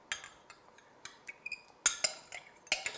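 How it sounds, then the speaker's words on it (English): Spoon clinking and scraping in a bowl of cupcake batter just after buttermilk is added, a run of quiet, irregular metallic taps and knocks with a few sharper clinks, close by and with no voice. "And so we give that a really good stir again."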